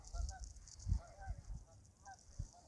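Geese honk in short repeated calls near a dock, mixed with other waterfowl, over steady outdoor background noise.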